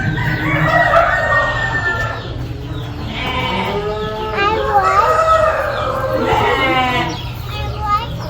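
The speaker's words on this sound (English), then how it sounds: "There's a rooster running loose in here." Several rooster crows ring out over stockyard background noise, with goats or sheep bleating nearby and people murmuring faintly.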